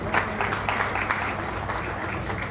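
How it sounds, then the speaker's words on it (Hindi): Crowd applause for a speaker at a Karni Sena rally in Bhopal, a steady spread of many hands clapping, moderately loud and even, with no speech over it. "इनके लिए भी आप जोरदार ताली"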